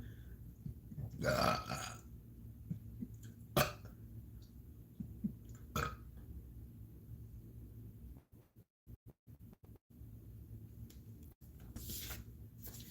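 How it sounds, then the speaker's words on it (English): Several low, rumbling burps come one after another with pauses between them, close and fairly loud against a quiet background. "I'm burping now"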